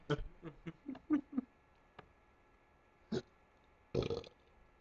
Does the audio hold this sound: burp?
yes